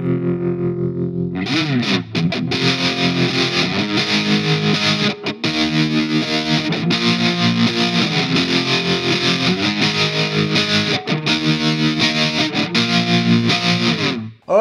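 A Mooer smart guitar plays an intro through heavy distortion and a wobbling tremolo effect. The chords are dense and loud, with a few short breaks, and no one talks over them.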